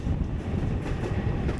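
A VL10 electric locomotive hauls a Chinese-built express multiple unit on the Poti to Tbilisi line in Georgia, a steady low rumble of rolling stock mixed with wind buffeting the microphone, fairly close and continuous with no voices.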